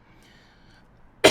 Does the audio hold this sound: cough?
yes